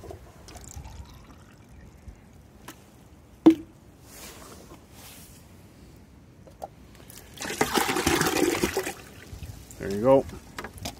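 Bucket of diluted acid water from cleaning a Hayward AquaRite pool salt cell being dumped out, a broad splashing pour lasting about a second and a half, followed by a shorter splash, with a sharp knock earlier.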